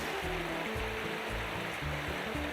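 Water sloshing and splashing steadily as a gold pan is rinsed during gold panning in the Yukon, close and continuous with a rushing, stream-like wash and no talk.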